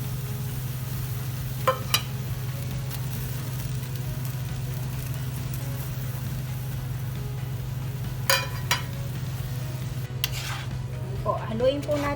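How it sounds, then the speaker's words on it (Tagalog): Pasta tossed in tuna sauce made with the tuna's oil in a pan, a low steady hum under faint sizzling with a handful of sharp utensil clinks against the pan, quiet and close, no talking. "Haluin po natin yung pasta para po mahalo yung nasa ilalim saka yung mismong sauce."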